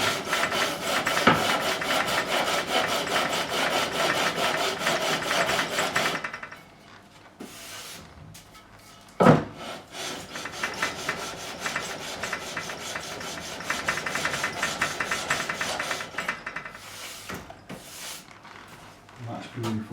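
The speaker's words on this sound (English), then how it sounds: "It just happens that I do have a long straight edge with sandpaper on there." Frets on a Warwick Streamer LX bass are leveled with a long straight edge faced with 120 and 240 grit sandpaper, giving steady rhythmic rasping strokes, loud and close, that pause briefly midway before resuming.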